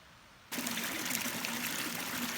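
Water trickles steadily from a spring at a cabin site, starting abruptly and continuing as a close, even, gentle flow with no talking.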